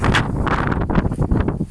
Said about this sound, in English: quite a bit of a wind, as you guys can see.